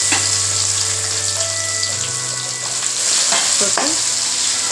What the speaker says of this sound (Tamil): இப்போ நம்ம ஊற வச்ச கோவக்காவை இதில் போட்டுக்கலாம்